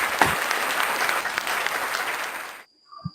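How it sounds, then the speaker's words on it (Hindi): Audience at an Urdu poetry gathering breaking into loud, dense applause that holds steady for over two seconds, then cuts off abruptly. "जहाँ जोरदार ताली के साथ"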